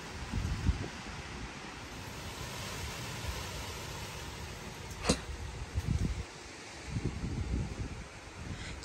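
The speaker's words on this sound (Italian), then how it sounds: "Credo ci sia un po' di vento." Soft, steady light wind rustles outdoors in the mountains in August, with a few gentle gusts swelling and fading and a faint brief tick partway through.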